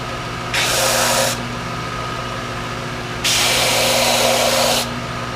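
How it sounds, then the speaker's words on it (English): A power sander straight-sands a rocket booster fin on a 4-inch Fusion build, taking off a little black finish. It runs in two steady hissing bursts, the second longer, over a constant low hum. "at this point, we're just doing a straight sand"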